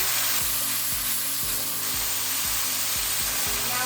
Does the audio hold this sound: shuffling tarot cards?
no